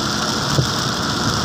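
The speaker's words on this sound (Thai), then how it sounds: "ฝนมันเข้าพายุเข้า" Heavy, steady rain from tropical storm Noru pours down continuously as a dense, even hiss that fills the whole short stretch, with no voices.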